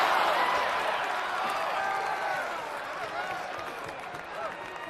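Crowd cheering and applauding loudly as a guest named Brooks walks onto a basketball talk show, a dense, steady roar with whoops that eases slightly toward the end.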